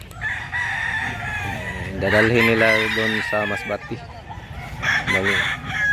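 Roosters crow repeatedly among clucking chickens, bought in bulk for transport to Masbate, with people talking over the birds throughout.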